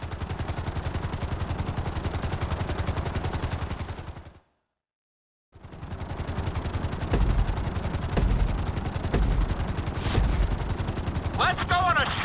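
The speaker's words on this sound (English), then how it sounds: "we're gonna put you in a helicopter for this lesson" Helicopter in GTA 5, a steady rapid rotor chop that runs continuously, cuts out briefly, then returns with a few sharp thumps and a brief voice near the end.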